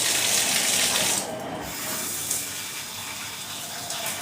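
Water running from a tap during rinsing, a steady close hiss of flow that drops lower and softer after about a second as it splashes on, with no talking.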